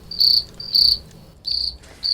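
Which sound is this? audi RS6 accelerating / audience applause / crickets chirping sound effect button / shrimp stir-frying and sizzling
crickets chirping sound effect button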